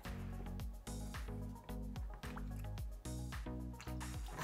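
Water gurgles and drains inside a tilted PC radiator being flushed, a close run of rhythmic, pulsing glugs and squishes repeating roughly every half second, fairly faint and with no talk over it.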